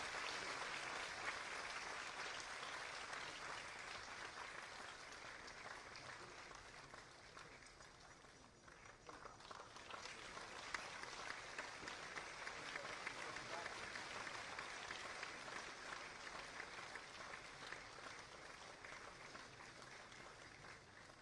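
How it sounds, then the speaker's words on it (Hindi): An audience claps at the inauguration of new facilities during a public event in Uttar Pradesh. The applause is sustained and broad, dips briefly midway, then swells again and carries on evenly. "कृपया तालियों के करतल ध्वनि से इस पल को अविस्मरणीय बना दें।"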